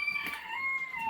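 Chickens inside a coop give a brief, fairly faint clucking call, heard alone at close range.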